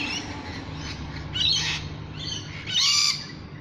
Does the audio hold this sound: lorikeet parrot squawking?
yes